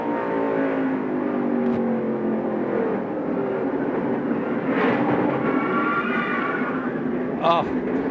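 NASCAR stock cars run under caution at Rockingham's North Carolina Motor Speedway during the 1996 Goodwrench 400, a steady, continuous engine drone with a brief pass near the end, under a commentator's talk.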